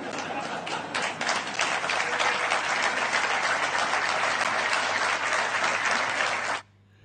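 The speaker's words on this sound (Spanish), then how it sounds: "había aplausos" Sustained audience applause at a public event, dense and steady clapping from a crowd for several seconds before cutting off abruptly.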